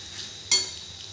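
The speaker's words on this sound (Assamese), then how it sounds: "এনেকৈ ভালদৰে মই মেগীখিনি পূৰা তললৈ ওপৰলৈ কৰি লৰাই ল'ম।" One brief metallic scrape of a spatula stirring chicken Maggi noodles in a pan, rising sharply out of a faint, steady kitchen background.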